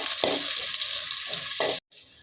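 Onions and curry leaves frying in a pan for a chicken fry, a continuous close sizzle with a few scraping stirs, briefly dropping out near the end.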